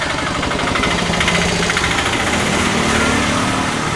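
A tuk-tuk engine drones steadily on a quiet street in Kochi, India, a loud, continuous, rattling idle that stays even throughout with no speech.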